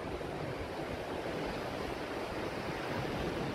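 Strong tidal water and waves surge around Ilfracombe Pier in a continuous broad wash of rushing sea, steady and moderately loud with no distinct breaks and no voices.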